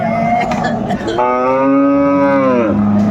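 At a Dinajpur cattle market, a cow with a bull calf lets out a loud, drawn-out moo that rises and then falls. It sounds close and fills the surroundings, with faint market noise underneath.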